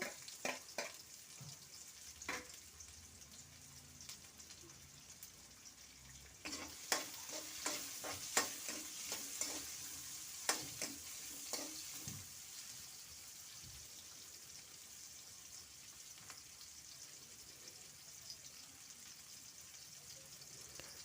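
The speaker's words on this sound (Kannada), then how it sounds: "ಈಗ ನಾನು ಹೆಚ್ಚಿರುವಂಥ ಈರುಳ್ಳಿನ ಹಾಕ್ಕೊಳ್ತಾ ಇದ್ದೀನಿ ಫ್ರೈ ಮಾಡ್ಕೊಳ್ಳೋಕ್ಕೆ" Chopped onions fry in hot oil with a faint, steady crackle, broken up midway by a run of stirring clinks and scrapes before settling back into a quiet sizzle.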